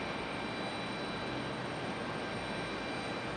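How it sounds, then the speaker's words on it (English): Steady, fairly faint roar of an Airbus A220 jet taxiing toward runway 23 Left for departure at Raleigh-Durham International on a stormy night, a continuous broadband engine rush without voices. "the A220 that pushed back in front of Air Canada earlier in the evening is just now leaving"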